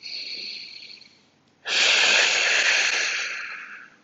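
Breath during a postpartum Pilates exercise: a softer airy breath first, then after a short pause a strong, close, long exhale that slowly fades.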